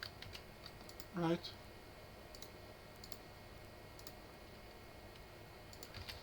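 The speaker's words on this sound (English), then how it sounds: "So now we're typing, everything is fine." Computer keyboard typing during React coding work: quiet, scattered key clicks spread through the stretch, with one short spoken word near the start.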